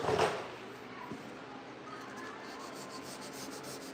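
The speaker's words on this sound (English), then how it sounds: "trying to get everything sanded in 400" Dry sanding of a 1968 C10 truck fender with 400-grit sandpaper, a steady close scratchy rubbing hiss that continues evenly throughout, without talk.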